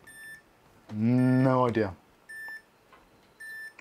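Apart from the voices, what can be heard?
electronic beeping in the background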